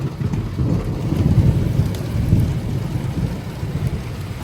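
Heavy rain pours steadily during a night thunderstorm while low thunder rumbles roll through. The storm is loud and close, and no one speaks.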